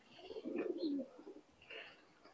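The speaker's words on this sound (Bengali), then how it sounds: "এই যে কবুতর 2টা দেখতেছেন সালারা টপ কোয়ালিটির এক পেয়ার কবুতর" A pair of top-quality Salara pigeons coo close by in a few soft, low throaty phrases, with a brief faint chirp and some light rustling between them.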